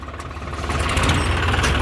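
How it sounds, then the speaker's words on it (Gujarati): A tractor engine turns over and catches, rising into a rough, loud low rumble that settles into steady running, close by and with no talk. "ટ્રેક્ટર ને ચાલુ કર"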